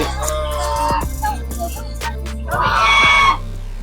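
Chickens at an animal farm in China cluck and squawk close by, with a louder crowing call rising near the end.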